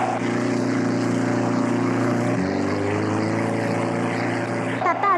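Steady, loud engine drone of scooters pulling away together, with a constant harmonic hum, continuous throughout with a slight shift midway.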